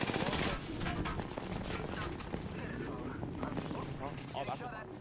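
Rapid video game gunfire in a busy online arena battle, bursts of shots crackling continuously under overlapping voices and in-game sound effects.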